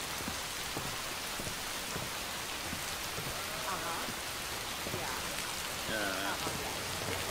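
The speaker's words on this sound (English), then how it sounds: "Always gotta be constantly raining." Steady rain falls in the Watch Dogs game world, a constant hiss with scattered drop ticks. A few faint chirping or tonal sounds rise briefly near the end.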